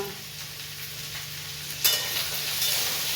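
Food frying in a home kitchen gives a steady soft sizzle, with a brief louder burst of stirring and hissing partway through, and no talk.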